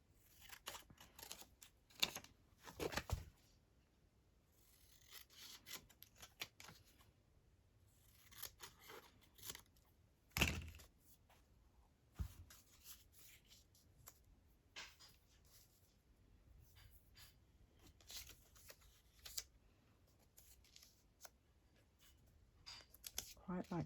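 Scissors snipping paper for a collage during a craft session, a series of quiet crisp cuts scattered irregularly, some close and sharp, with someone talking softly between them.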